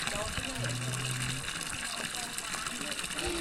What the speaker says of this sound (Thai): น้ำนี่แหละพี่น้องมาจากภูเขาเนาะ